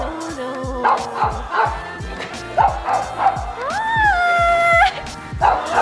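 A dog barks and yips repeatedly in a rapid, loud, close series, with a whiny howling whimper rising partway through, while people talk excitedly around it.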